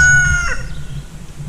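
A rooster crows once nearby, the call fading quickly into low background noise.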